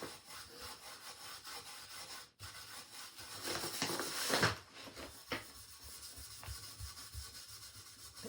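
Hand sanding along the wooden frame of a thrift store piece, a close, fairly quiet scratchy rubbing that swells into a stronger burst of strokes midway, then settles to lighter scuffing.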